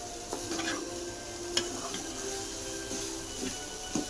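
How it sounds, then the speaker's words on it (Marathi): Dried shrimp (sukat) frying crisp in a pan, a soft steady sizzle with scattered light ticks and scrapes of stirring, close up and without speech. "सुकट चांगली परतून घेऊ. एकदम कडक खरपूस होस्तवर."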